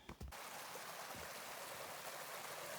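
A mountain creek flowing from a spring along a Kananaskis trail near Old Goat Glacier, a steady broadband rush of running water, close and constant, after a brief knock at the start.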